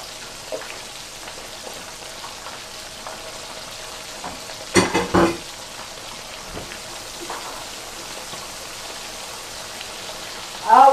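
A whole fish and smelts fry in hot oil with a steady, soft sizzling crackle. A couple of louder clattering bursts come near the middle and again at the end.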